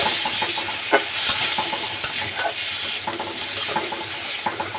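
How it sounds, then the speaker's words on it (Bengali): Onions and small shrimp fry in an oiled pan with a steady close sizzle, while a spatula scrapes and clicks against the metal at irregular intervals. "পেঁয়াজগুলো একটু ভেজে নিব, এর সাথে অ্যাড করে দিব হচ্ছে চিংড়ি মাছগুলো"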